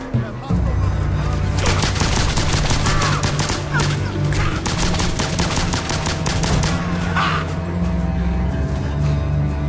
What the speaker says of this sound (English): Let me shoot these guys